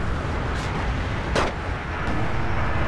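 Gunfire in the tank battle game Wargame: Red Dragon: a rumbling barrage of distant artillery-like booms under one sharper, crisp shot in the middle, with no voices.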